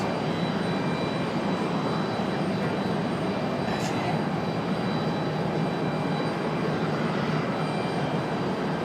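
A Delta Boeing 737 takes off at Raleigh-Durham airport, a continuous broad jet roar that holds steady and loud throughout with no break.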